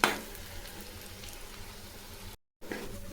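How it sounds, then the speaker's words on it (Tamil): Tamarind frying in sesame oil in a pan, a steady soft sizzle and crackle close by that drops out for a moment before resuming. "நல்லெண்ணெய் ஊற்றி இந்த புளியை வறுத்து எடுத்துங்க"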